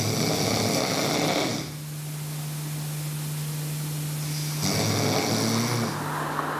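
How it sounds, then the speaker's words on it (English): A man snores heavily in two long, rasping breaths separated by a quiet pause, close and clear against a faint hiss, with no talking. "Snoring, the enemy of romance"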